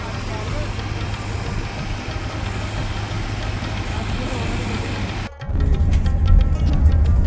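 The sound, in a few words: generator running near bus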